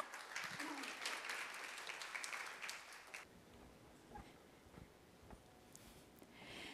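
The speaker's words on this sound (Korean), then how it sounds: "여러분 큰 박수로 환영해 주시기 바랍니다" Audience applause welcomes a presenter at a future-society scenario contest session of a science conference, a dense, fairly loud burst of clapping for about three seconds that then thins into scattered, quieter claps and room noise.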